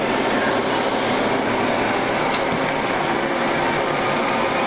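A constant loud broadband roar of Boeing 737-800 jet engines in a flight simulator drones steadily without change.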